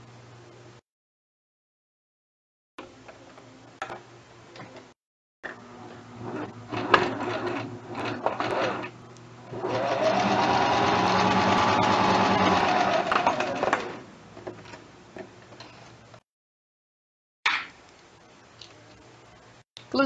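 A sewing machine stitches a seam on a straight skirt, running in short stop-start bursts and then one long steady whirring run, close and fairly loud, with brief pauses between stretches of stitching.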